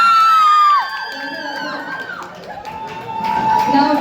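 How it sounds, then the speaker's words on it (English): Children's crowd cheering and whooping at an inter-class school debate, a loud burst of shouts at the start that settles into sustained group cheering and calls. "I would like to listen to the cheer for BK5 participants first."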